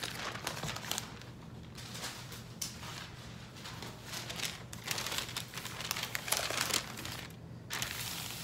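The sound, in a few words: butcher paper being placed over T-shirt for Cricut Infusible Ink transfer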